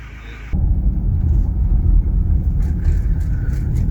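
A vehicle drives over a reservoir, a loud close low rumble of engine and tires that swells after a quieter opening and stays steady to the end.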